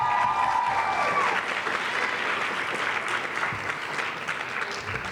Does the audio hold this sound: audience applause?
yes